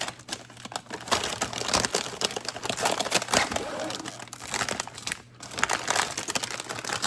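Crinkling of a plastic gallon-size bag holding cookies, a busy close crackle lasting throughout with brief pauses, nearby and fairly loud, with no talk.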